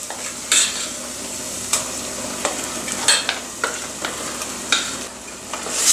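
Pasta is stirred in a sizzling pan, with a continuous fry hiss broken by repeated sharp utensil taps and scrapes against the pan at irregular intervals. No one speaks.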